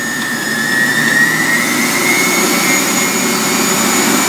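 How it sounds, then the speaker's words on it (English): A kitchen juicer runs on its highest setting, giving a steady close motor whine with a high-pitched tonal hum that barely changes over the whole stretch, no voices. "So we'll try it out on the highest setting just to see what it sounds like."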